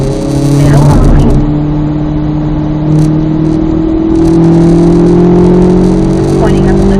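A car revs and accelerates hard around a race track, engine tone climbing and holding, loud and close, with a steady drone throughout and no talking over it.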